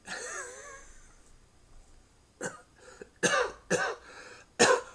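A faint whistly sound at first, then a series of sharp, close coughs, about four of them spaced unevenly.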